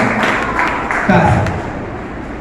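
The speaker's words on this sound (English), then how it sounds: "give a big round of applause" Children at a play school clap together in a round of applause, a dense, steady patter close by with voices mixed in.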